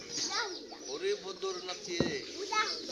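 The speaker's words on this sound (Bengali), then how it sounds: "সবগুলো কবুতর কিন্তু নামছে" Village pigeons cooing softly in low, rolling calls as the flock comes down to feed, with a brief flutter or thump, all faint and fairly close.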